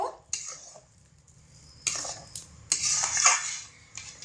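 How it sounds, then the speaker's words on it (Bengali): Vermicelli payesh is stirred in a pot over a low flame, giving a few intermittent metallic scrapes and clinks of a spoon against the pot, quiet and close, with pauses between strokes. "অনবরত নাড়াচাড়া করব"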